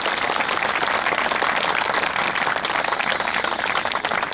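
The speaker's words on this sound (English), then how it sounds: "let's give our community here a round of applause as well for their support" Steady, dense applause from an audience at a middle school awards ceremony, even and sustained throughout with no break.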